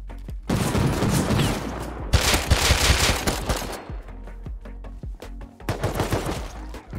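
Bursts of loud automatic gunfire in Rust, sustained rapid volleys with short gaps between them, sharp and close, with only faint background game noise in the pauses.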